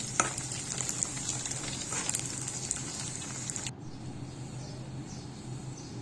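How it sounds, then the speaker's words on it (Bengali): Dried kachki fish shutki frying in oil, a close crackling sizzle with stirring that drops to a quieter steady fry partway through. "আমি কাঁচি মাছ শুটকি ভেজে নিচ্ছি"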